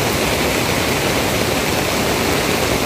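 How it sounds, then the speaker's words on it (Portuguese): Floodwater rushing past a bridge over a swollen river, a loud, dense, unbroken roar of churning water that fills the whole moment with no voices. "É muita água. Muita água mesmo."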